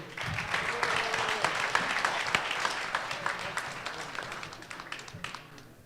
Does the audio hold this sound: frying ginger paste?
no